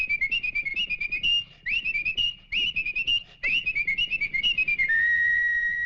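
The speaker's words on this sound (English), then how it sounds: "Only fast whistlers could whistle while they worked" Carpenters whistle a quick, chirpy tune while they work, a bright piping melody of rapid runs and trills that rises and falls, ending on a long held note.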